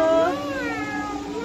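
A child imitates a cat with one drawn-out, wavering meow, loud and close, with no other talking.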